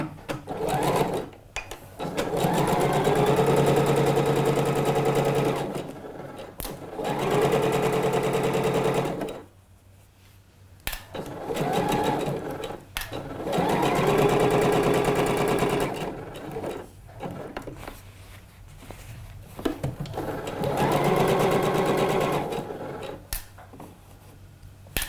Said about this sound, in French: on va piquer les deux fonds de poche ensemble